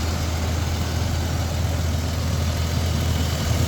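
Steady, close rumble of a 185,000-mile FZJ engine idling in a 1996 Toyota Land Cruiser, an even low drone heard alone for several seconds.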